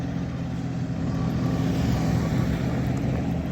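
A Solis 26 mini tractor's three-cylinder Mitsubishi diesel engine idles steadily with a low, rumbling drone and a constant throb, close by and unchanging throughout, with no talking.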